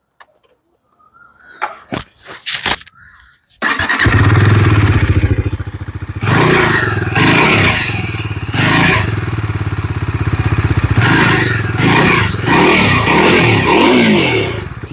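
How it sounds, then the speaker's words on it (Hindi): Exhaust note of a Bajaj Dominar 400 fitted with a new 350cc engine: a few sharp starter clunks and blips, then the engine catches into a loud, steady idle with repeated throttle revs rising and falling. "तो ये है exhaust note of the Dominar 400 with the new 350 CC engine."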